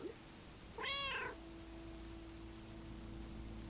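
A single drawn-out cat meow from a video game, rising and falling over about half a second, heard alone against a low steady hum with no talking.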